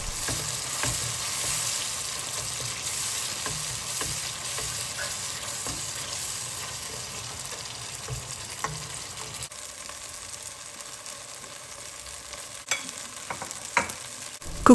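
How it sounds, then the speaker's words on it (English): Garlic and ginger paste frying gently over low heat, a soft continuous sizzle with occasional light stirring taps, steady and close, fading slightly toward the end, with no talking. "Cook it at low heat until the raw smell of the garlic is gone, about a minute or so."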